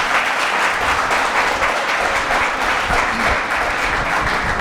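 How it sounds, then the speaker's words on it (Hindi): Audience applause at a poetry recital event in Gorakhpur, a large crowd clapping loudly and continuously in a dense, even roar lasting nearly five seconds. "एक बार तालियां आप बजा दीजिए इस आयोजन के नाम।"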